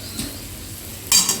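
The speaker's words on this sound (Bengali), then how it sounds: "এবারে এই মশলার ভেতর আমি ভেজে রাখা কাঁঠালটা দিয়ে দেব।" Fried jackfruit goes into a sizzling tomato masala for echor chingri, a soft frying hiss with light scraping, then a sudden louder burst of sizzle near the end as the pieces hit the hot pan.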